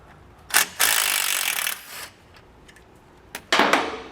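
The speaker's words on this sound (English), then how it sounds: "So we're going to take a 13mm socket and remove that bolt right there." A 13mm socket on a ratchet works loose the bolt on an ABS line bracket near the jounce spring striker plate of a vehicle. Two bursts of close, scraping ratchet clicks are separated by a short pause.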